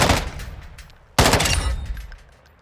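Gunfire from the FR Avancer rifle in a first-person shooter: two sharp loud bursts, the second starting abruptly midway and trailing into a ringing decay, with no talking.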